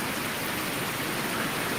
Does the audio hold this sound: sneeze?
no